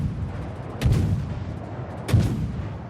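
Two deep, rumbling warship gun salvos in World of Warships, spaced about a second apart, each a heavy boom rolling out over a steady low background of ocean and engine noise.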